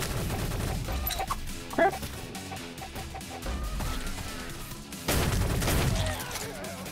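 Gunfire rattles in the egg-themed online shooter game Shell Shockers in a continuous busy spray of shots and effects, with one brief spoken word.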